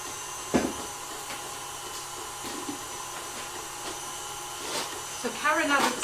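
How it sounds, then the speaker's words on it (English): An electric mixer whips macaron meringue with a steady, droning motor whine and faint whirring overtones. A few soft knocks sound along the way, and a brief voice comes in near the end. "Let's turn the mixer up."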